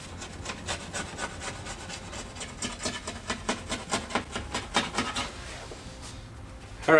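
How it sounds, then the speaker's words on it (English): A plastic blade scrapes softened window tint glue off a Chevy S10 truck window in a steady run of rasping, rhythmic strokes, close and fairly loud, growing more pronounced toward the end with no talking. "my plastic blade, and scrape all of that off."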